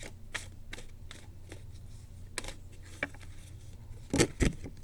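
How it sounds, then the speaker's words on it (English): A tarot deck being shuffled upside down, with soft riffling patters and a few sharper snaps, then two louder slaps near the end. "I don't know why I'm shuffling my deck upside down."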